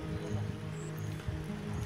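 Steady monsoon rain pours down near a river, a dense continuous hiss with a low rumble of water underneath and no voices.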